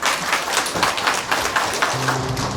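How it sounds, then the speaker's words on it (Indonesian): A congregation applauds at a church consecration ceremony, producing a short burst of steady clapping from a crowd at a moderate distance. "Boleh Bapak Ibu hadirin sekalian beri aplaus yang meriah."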